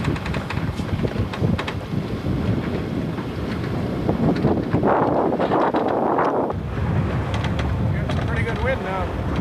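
Strong wind buffets the microphone as a sailboat is underway in a bay, a steady rushing roar with gusts swelling louder midway, mixed with boat and water noise while people talk now and then.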